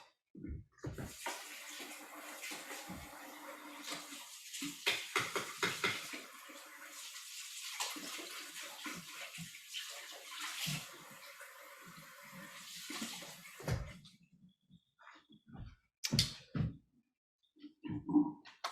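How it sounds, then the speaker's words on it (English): Tongs are rinsed under a running kitchen tap, a close hiss of splashing water that runs steadily for about thirteen seconds, then stops and leaves scattered clinks and small handling sounds. "I'm just gonna rinse these tongs off and pull a bone out."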